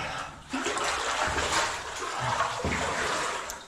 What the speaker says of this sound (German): So, der robbt sich jetzt durch das Wasser